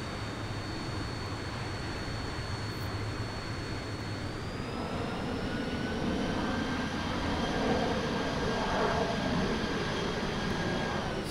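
Jet engine of an airliner in Infinite Flight, parked at an Australia/Singapore airport: a steady, moderately loud whine and roar whose pitch climbs partway through, with no talking.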